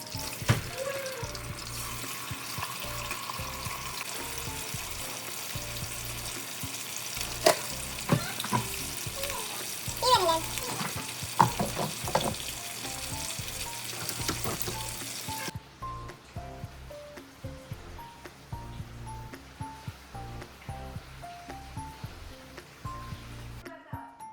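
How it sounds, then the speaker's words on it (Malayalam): Chicken frying in a pan in a home kitchen, a steady crackle and sizzle with occasional stirring clatter and running water; the frying fades after about fifteen seconds, leaving quieter kitchen clatter. "ചിക്കൻ അതാ ഫ്രൈ ചെയ്തുകൊണ്ടിരിക്കുകയാണ്."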